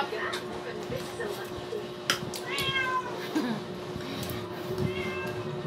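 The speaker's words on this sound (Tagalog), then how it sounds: "Tuwing sabi ko na sarap, galit na galit yung pusa." An angry cat meows in a few drawn-out, rising and falling cries, fairly close, mixed in with people talking in a home setting.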